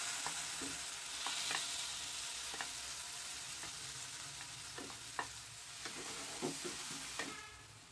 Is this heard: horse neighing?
no